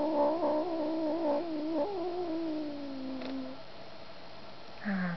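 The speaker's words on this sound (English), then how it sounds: "Ah, the joy of little kittens." A small kitten gives a long, wavering cry that slides down and fades, followed by a short, higher mew near the end; no talking.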